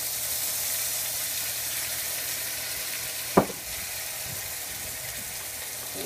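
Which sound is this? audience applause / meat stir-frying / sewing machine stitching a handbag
meat stir-frying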